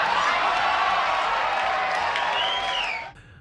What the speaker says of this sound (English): The audience's mixed reactions, gasps, applause, and even some boos would punctuate the electric charge in the studio.